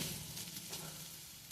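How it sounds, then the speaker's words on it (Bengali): Potatoes frying in a pan in a home kitchen, giving a steady, soft hiss and sizzle with no voices, close and fairly quiet throughout. "এই দেখো আলু ভাজা বসাইছি, আলু ভাজা হচ্ছে, লাল লাল করে আলু ভাজবো।"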